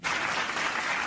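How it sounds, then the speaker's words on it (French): Steady, dense applause from many hands after an airplane landing, loud and continuous for a second with no voices over it. "Tout le monde applaudit."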